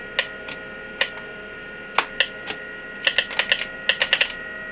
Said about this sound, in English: The sound from the keyboard is kind of annoying.